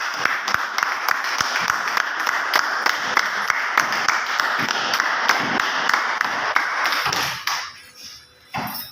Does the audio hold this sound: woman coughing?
no